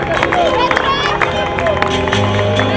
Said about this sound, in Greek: Ένα δυνατό χειροκρότημα για τους κυπελούχους.